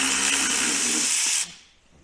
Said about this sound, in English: over on this side we've got 2 Torx head screws that we need to pull out of there